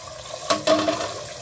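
Water runs from a kitchen sink tap in a short gush that starts abruptly, briefly pauses, then flows again, close by and moderately loud.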